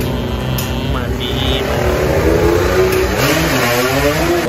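A motorcycle engine revs and idles loudly up close, its rough mechanical drone steady throughout with muffled voices mixed in.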